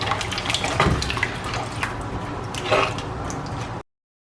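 Sinhala-style curry is stirred with water in a pot, giving a steady, close wet swishing and sloshing with a couple of louder splashy strokes, then stopping abruptly.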